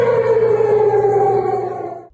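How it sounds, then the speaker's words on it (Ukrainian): Air raid siren tone broadcast over radio stations in the Moscow, Voronezh, Belgorod and Leningrad regions, a loud steady wail with strong harmonics holding for about two seconds before fading out, with no voices over it. "Звуки повітряної тривоги росіяни почули в ефірах телеканалів та радіостанцій."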